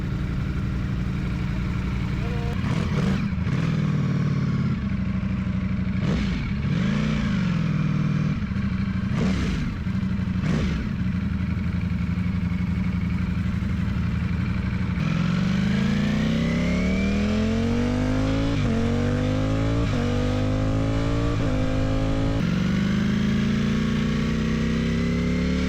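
A Ducati motorcycle engine runs close by, idling with sharp blips of the throttle early on, then revving up in rising and falling sweeps, loud and steady throughout.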